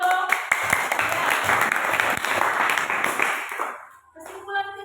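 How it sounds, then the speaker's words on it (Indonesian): A class of students applauds in a classroom during a lesson on gratitude, a dense, loud patter of many hands lasting about four seconds before fading into quiet, with a voice briefly heard at the end. "Ya, bagus, tepuk tangan dong."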